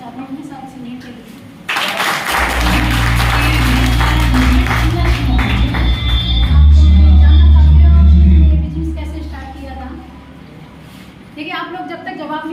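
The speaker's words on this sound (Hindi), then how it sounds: "एक बार मैं जबरदस्त तालियां चाहता हूँ अपने साथ सुनने के लिए" Loud, sustained applause and clapping from an audience at a celebration event in Gurgaon, swelling for several seconds and then fading, mixed with crowd noise and voices.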